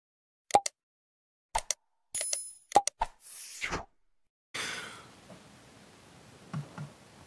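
A notification bell sound effect: a few sharp clicks and pops, a brief bright chime and a quick whoosh, followed by a soft, fading wash of noise.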